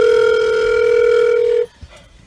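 A steady telephone dial tone hums loudly for about a second and a half before cutting off as a call is placed, leaving faint room noise and a small click.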